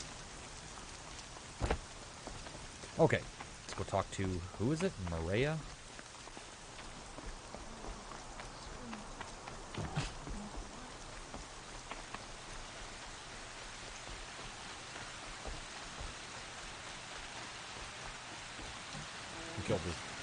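Steady rain patters across an open outdoor scene in the video game Horizon Zero Dawn, a soft continuous wash that runs the whole time, with someone talking briefly over it early on.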